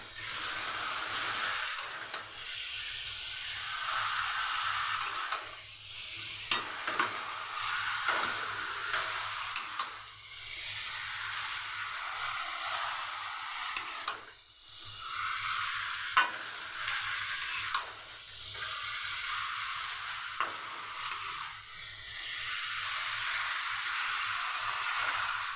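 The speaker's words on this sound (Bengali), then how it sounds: "একটু বাড়িয়েই আমি চিকেনটা ভালো করে কষিয়ে নেবো।" Chicken sautéed in a pan for maskamakhani chicken, giving a steady close hiss of frying with occasional soft stirring scrapes rising and falling throughout, no voices.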